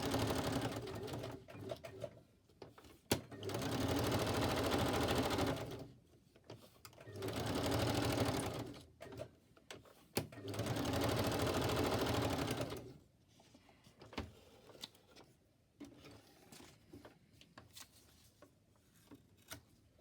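A sewing machine stitches paper ephemera for a journal in three distinct bursts of rapid whirring, each lasting a couple of seconds, separated by quiet pauses with faint handling noises.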